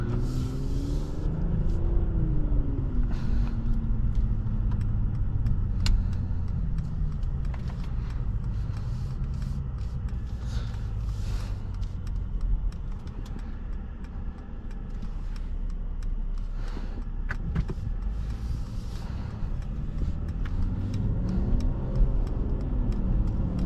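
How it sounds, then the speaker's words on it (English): A 2023 Mercedes-Benz E 450 4MATIC coupe in sport mode accelerates with a steady low engine rumble that rises and falls with the gears, heard from inside the cabin with faint ticking in the background. "Smooth acceleration, nice transmission as well."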